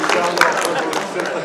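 Participants at a training session applaud one another in a room, a dense burst of nearby clapping with some voices mixed in.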